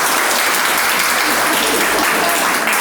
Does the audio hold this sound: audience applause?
yes